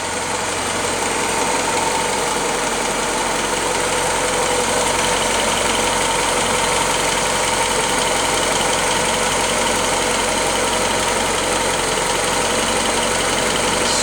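A Willys L-head engine with oil bath air filter, points distributor and original Carter WO carburetor idles after a cold start, a steady, close, continuous rumble with an even mechanical tick running throughout and no talk.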